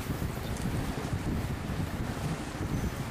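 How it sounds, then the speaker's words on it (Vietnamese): Heavy wind buffets the microphone at sea, a loud broadband rush with a low rumble beneath that fits a purse seine fishing boat accelerating offshore, though the engine is not clearly picked out. "Chiếc pha xúc này đang tăng tốc cơ khơi đấy các bạn."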